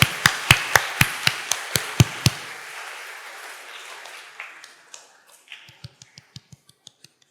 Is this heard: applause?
yes